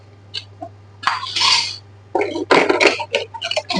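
Metal spoons clatter and scrape as they are handled in a kitchen drawer being cleaned, giving short bursts of jangling cutlery with pauses between them, close and fairly loud.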